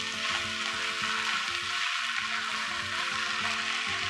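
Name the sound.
stirring Chinese cabbage and pork noodle stir-fry in pan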